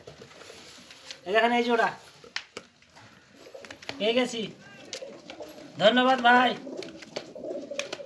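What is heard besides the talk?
pigeons cooing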